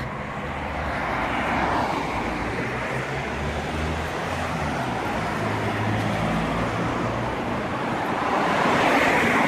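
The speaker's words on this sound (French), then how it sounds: "avec le bruit des voitures, c'est pas facile" Cars pass steadily on a busy main road, a continuous near rumble and whoosh of traffic that swells slightly toward the end, with no voices.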